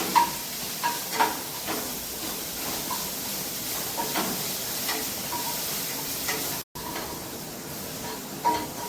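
Garlic, black pepper, cumin and kudampuli sauté in hot oil in a pan, giving a steady low sizzle and hiss with occasional soft stirring scrapes throughout, fairly quiet and without speech.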